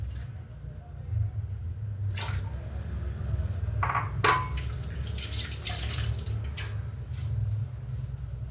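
Third coconut milk poured into payasam cooking with lentils in a pot, a soft continuous watery pour with a few brief clinks and splashes over a steady low stove hum, no talking.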